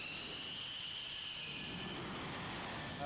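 Four Rafale fighter jets patrolling Baltic airspace, heard as a steady, distant roar of jet engines that stays even and continuous throughout.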